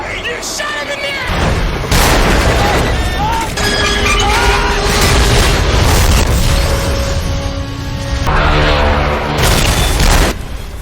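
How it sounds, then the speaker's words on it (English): Cannon fire in an action fight scene: loud, close booms and crashes over dramatic music, with shouted dialogue between blasts. "Okay, load the cannon!"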